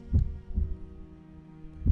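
A heartbeat throbs in slow, deep low thumps, three beats spaced across two seconds over a soft steady hum, with no voices.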